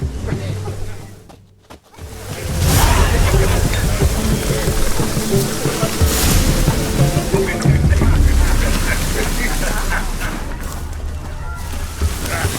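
Steady rainfall in the video game The Witcher 3: Hearts of Stone pours down continuously, with a low rumble underneath and voices speaking over it partway through.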